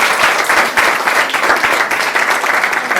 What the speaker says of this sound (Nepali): एकपल्ट फेरि ताली बजाएर बधाई दिन